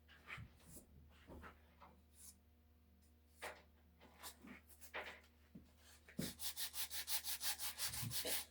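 A wooden wedge for hanging an axe head is sanded with quiet, scratchy rubbing strokes that start irregular and turn into a fast, steady back-and-forth rhythm near the end.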